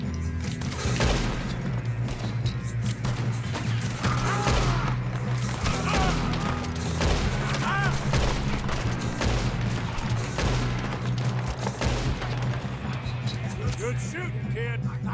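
Repeated gunshots crack out in Red Dead Redemption 2, scattered shots and volleys mixed with game sounds and talk running throughout, with no single quiet gap.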